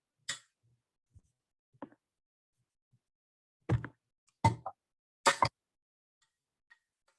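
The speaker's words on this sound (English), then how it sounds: "I'm gonna spoon out some of the rice at the bottom." Brown rice spooned into a bowl makes a few short, soft scooping plops and taps, separated by quiet gaps and heard up close.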